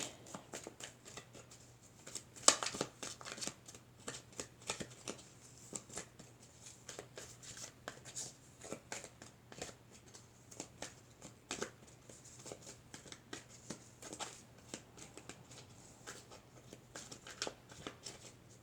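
Tarot cards are shuffled in a quiet room, a long run of soft, rapid riffles and flicks close by, with no talking.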